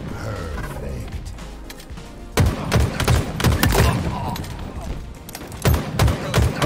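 Gunfire in Halo Infinite ranked multiplayer, a dense run of loud, rapid shots and thuds through the middle of the clip with more bursts near the end, with a player's voice speaking over it.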